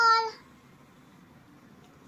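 A cat meows once, loud and close at the very start, then only faint background hiss follows.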